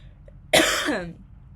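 A single sharp cough bursts out close by, trailing off over about half a second, with quiet room noise before and after.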